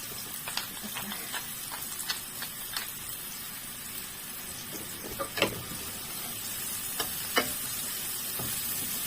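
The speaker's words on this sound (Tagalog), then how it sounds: "nagigisa ko ng sibuyas" Onions sauté in a pan with a soft, steady sizzle. A few clinks and scrapes from stirring break in now and then, and the sound stays fairly quiet throughout.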